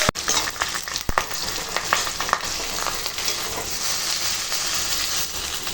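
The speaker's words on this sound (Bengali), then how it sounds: "এখন মুড়ো খানা ভাজা হয়ে গেছে আর তুলে নেবো" A fish head frying in hot oil, a dense crackling sizzle close up, with a couple of sharp pops and clatters near the start.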